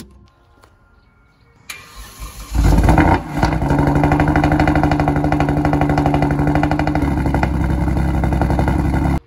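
A Kia Stinger GT2 with a loud exhaust starts up after a few quiet clicks, with a brief cranking burst, then settles into a loud, close, steady idle drone that holds to the end.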